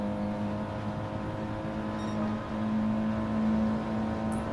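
Race cars in the Gran Turismo video game lapping Lago Maggiore or Fuji, a steady, droning engine whine sustained near and loud as the cars run in each other's slipstream, with no talking.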